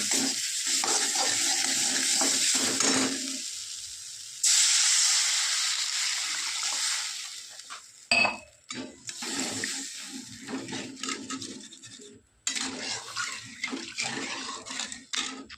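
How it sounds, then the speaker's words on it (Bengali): Water poured into a hot pan of homemade fish curry sets off a loud, close hiss and sizzle, easing off as it settles, then rising again with bursts of bubbling and spattering. "এবার দিয়ে দেবো জল"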